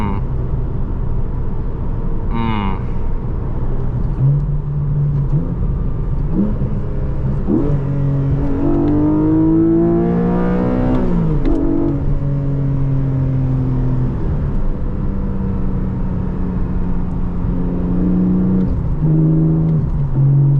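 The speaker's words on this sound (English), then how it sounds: "the way the engine rings in your ear" A 2023 Porsche Boxster GTS 4.0 with a manual gearbox, heard from the cabin on a test drive: its engine revs climb and fall through several gear changes, loud and close, with a brief sharp sweep early on and a steady droning underneath.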